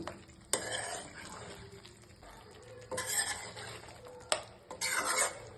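Andhra-style chicken curry masala stirred with a metal spoon in a pan over a low flame, with scraping strokes and clinks in bursts over a soft, steady sizzle.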